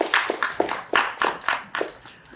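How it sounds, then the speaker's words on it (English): Clapping at an awards presentation, sounding like only a few people nearby, with about eight loud, separate claps in an uneven rhythm. "Can you please give her a nice round of applause once again?"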